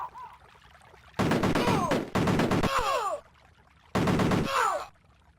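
Retro Cannon Fodder video game gunfire in three loud bursts of rapid crackling shots, each trailing off with descending wails, separated by short quiet gaps.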